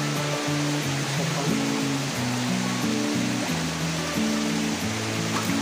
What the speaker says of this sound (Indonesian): Di kiri jalan banyak sungai ya, aliran sungai kecil ya